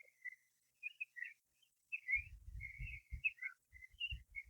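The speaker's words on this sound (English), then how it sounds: "But gull cries always seem a bit hysterical to me." Gulls on the Suffolk coast between Aldeburgh and Southwold give short, high, repeated cries in scattered bursts, with low thuds joining partway through.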